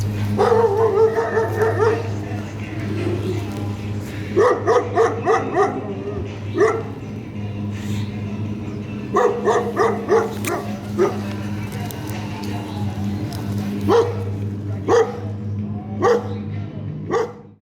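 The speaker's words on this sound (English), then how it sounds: "they also have sled dogs. Sled dogs!" A pack of sled dogs at a mountain-top site in Andorra barks and yips in repeated excited bursts. The barking rises and falls over a steady low hum, and the dogs sound fairly close.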